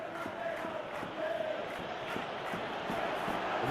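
Stadium crowd in the football video game PES roars and chants steadily as a match unfolds, a dense continuous wash of cheering with rhythmic pulses and no clear pauses.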